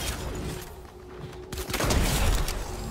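A dense burst of video game gunfire, rapid overlapping shots that build louder toward the end in a noisy firefight.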